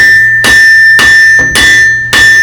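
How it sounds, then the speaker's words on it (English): A blacksmith's hammer strikes hot metal held at an angle on the anvil at a smithing event, four loud, evenly spaced ringing blows with a steady high-pitched tone sustained between them. "I have the piece at an angle and my hammer coming down with the face at an angle"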